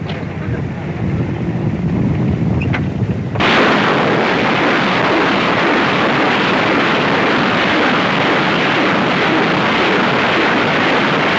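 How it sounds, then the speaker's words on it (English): Rockets launched with live ammunition from tubes mounted on an Egyptian army lorry, a sudden loud roaring blast that becomes a sustained, dense rushing roar, following a quieter stretch at the start. "The missiles are fired from the cab of the lorry."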